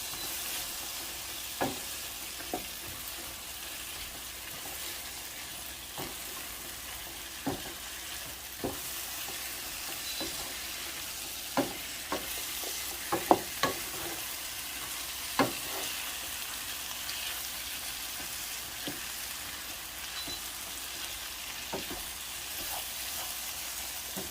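Blanched green beans frying in a little oil, a soft steady sizzle with scattered crackles and stirring clicks throughout, no talk.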